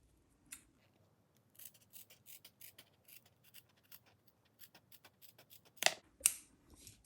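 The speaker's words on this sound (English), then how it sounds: "I'm just going to cut this off with scissors." Scissors snip steadily through a thick shoe insole, a series of quiet close cuts ending with a couple of louder sharp snips.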